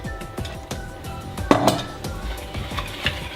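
A utensil stirs melted chocolate and cream in a bowl, making repeated clinks and scrapes against the bowl in an uneven rhythm, close and moderately loud, with one sharper knock midway.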